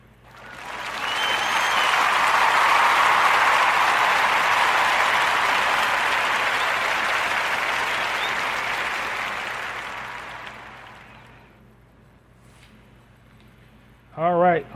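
A podcast audience's sustained round of applause, loud and dense, swelling quickly, holding for about ten seconds and fading out, followed by brief talk.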